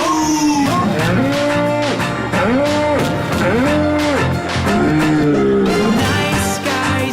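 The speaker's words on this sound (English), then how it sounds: "Cows go moo." Cow mooing, a series of loud, drawn-out lowing calls repeated in steady succession against a dense musical backing, with no talking.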